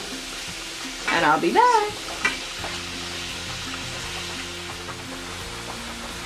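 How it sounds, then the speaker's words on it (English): Ground beef sizzling steadily in a pan for spaghetti meat sauce, a close, continuous frying hiss with a brief burst of louder spattering and spoon scraping early on, and a few words spoken briefly. "I'm gonna let the ground beef cook for a few minutes"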